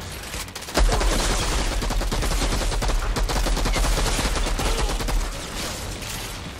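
In the Outriders video game, a long burst of blind gunfire pounds out rapid, loud shots for several seconds before tapering off, with no talking.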